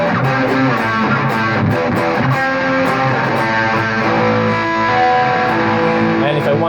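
Electric guitar through a GT51 effects unit's low distortion, a mild overdriven crunch, chords and notes ringing out loud and close with no voices.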